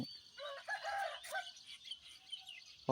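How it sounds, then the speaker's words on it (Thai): Several birds, including crows, chirp and call outdoors at a rural home in the morning, with a rooster-like crow and scattered tweets at moderate distance, ending with a brief louder call. "มีเสียงนกเสียงกาเสียงรบกวนมาค่ะ"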